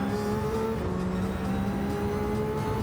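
A race car engine in Gran Turismo 7 drones at steady high revs, a continuous whirring engine tone with layered harmonics, alone and fairly loud.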